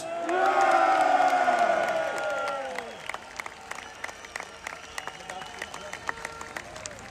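Crowd at a London freedom of speech street march cheers and applauds loudly, with whoops over a steady roar that fades after a few seconds into scattered clapping and background noise.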